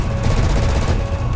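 Machine gun fire in War Thunder, a loud rapid rattling burst of rounds running continuously through the short moment, close and dense.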